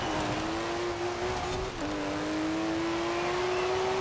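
A TVR sports car engine accelerates in Forza Horizon 4, a steady rising drone with one brief dip at a gear change, loud and continuous with no talk.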